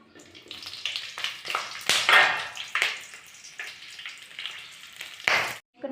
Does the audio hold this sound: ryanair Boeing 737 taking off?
no